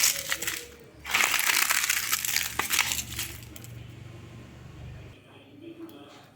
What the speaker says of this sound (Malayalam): മുട്ടയൊന്ന് പൊടിച്ചു കൊടുക്കാം.